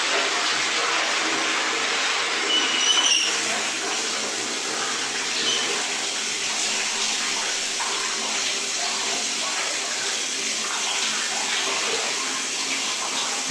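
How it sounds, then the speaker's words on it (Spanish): A shower runs in a home bathroom, a steady broadband hiss of spraying water that stays constant and fairly loud throughout, with no voices. "Ese es el sonido de la ducha."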